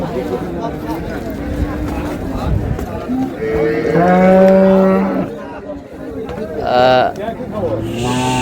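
Improved-breed dairy cows and calves at Raniganj cattle market in Dinajpur low with a loud, drawn-out moo near the middle and another shorter call later, set against market bustle and someone talking throughout.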